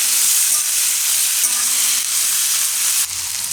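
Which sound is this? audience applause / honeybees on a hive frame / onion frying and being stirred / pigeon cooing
onion frying and being stirred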